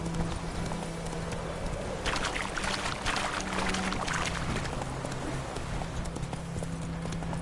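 Roach, the horse in a Witcher video game, galloping with rapid, rhythmic hoofbeats that run steadily and fairly loud over ambient game sound throughout.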